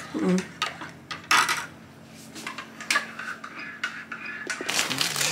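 A spoon stirring lumpy milk in a cup for an elderly woman's breakfast, with quick bright clinks against the rim in irregular bursts, close and clear, little talk.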